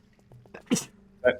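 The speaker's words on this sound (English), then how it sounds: "Yeah, I always sneeze in pairs." A short sneeze followed by a second, quieter sneeze about half a second later, close up, with faint background voices.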